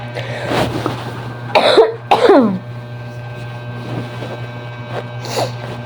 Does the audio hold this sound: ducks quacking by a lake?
no